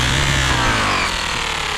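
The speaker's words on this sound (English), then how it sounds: "Just let the buffer do the work." A power buffer whines loudly and steadily while polishing an old wheel, a continuous close-up hum that shifts slightly in pitch partway through, with no talking.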